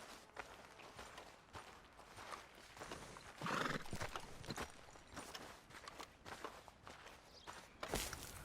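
Horses walk with clip-clop hooves in the Red Dead Redemption 2 video game, steady close hoofbeats throughout, one horse whinnying loudly partway through and a snort near the end.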